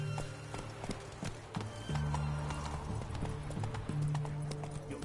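Roach, the horse in The Witcher 3 video game, clip-clops along with steady hoofbeats at close range, joined by a low snort or whinny partway through, with no talking over it.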